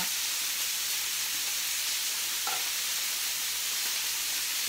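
Continuous sizzling and hissing of potatoes frying in hot oil in a saucepan, steady and moderately quiet throughout.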